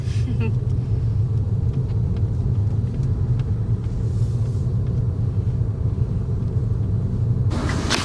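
A car pulls out and drives through a small coal town, with a steady low engine rumble and road noise heard from inside the vehicle throughout.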